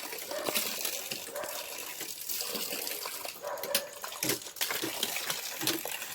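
Water is lifted by a walking-powered pump and gushes out in an irregular, splashing flow, loud and close, with surging bursts and occasional thumps.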